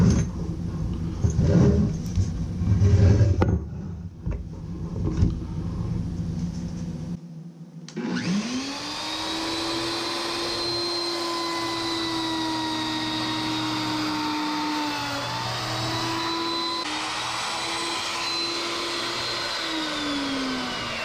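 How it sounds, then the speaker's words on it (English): A power planer drones loud and steady over glued-up boards being surfaced for a cutting board, with a continuous whine running for most of the stretch after an earlier burst of rougher handling noise and a brief near-silent gap. "I am now planing both of them where I can then cut them into strips"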